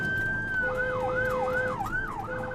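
A yellow rescue vehicle's siren wails close by, a steady tone shifting into a rapid rising-and-falling yelp over a low engine rumble.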